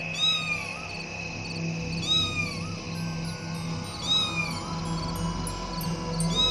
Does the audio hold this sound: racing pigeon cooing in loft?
no